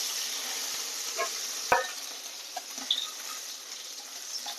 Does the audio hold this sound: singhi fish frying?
yes